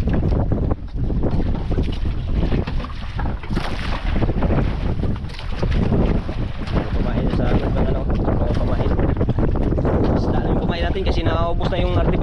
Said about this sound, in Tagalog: Grabing hangin